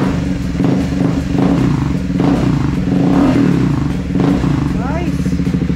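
A Triumph Speed 400 motorcycle fitted with a DNA high-performance air filter revs up in bursts, loud and close, with a throaty engine roar and a few crackles while people talk excitedly over it.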